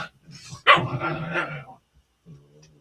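Dogs barking indoors, a couple of sharp close barks with a longer rough bark-whine in the middle, fading to a faint low whimper.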